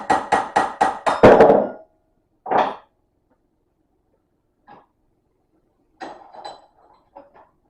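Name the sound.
hammer and punch on metal part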